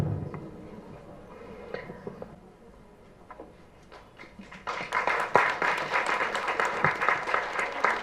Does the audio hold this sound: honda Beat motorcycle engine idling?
no